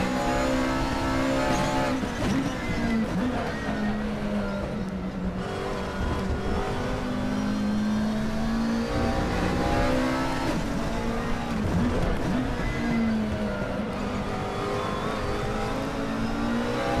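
McLaren 12C GT3 race car in an ADAC GT Masters racing game at the Sachsenring, its engine droning loudly and continuously with rising and falling revs through gear changes, a faint tire squeal now and then.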